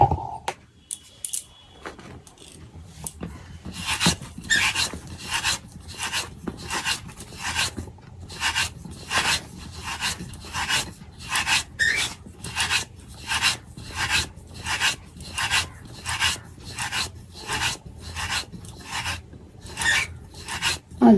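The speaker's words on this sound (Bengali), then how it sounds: "পিঠে কাটছি।" Chusi pitha dough is cut in a quick, regular series of short scraping strokes, about one every half second, close by and with no talk over them.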